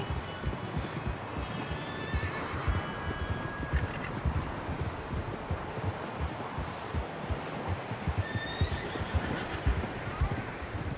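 In Red Dead Redemption, a horse neighs and whinnies while its hooves clip-clop steadily over the ground, with a faint breeze of wind behind it.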